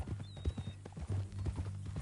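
Horse hooves clip-clop in a steady, fairly close rhythm in Red Dead gameplay, with a low rumble and faint background sounds around the trotting.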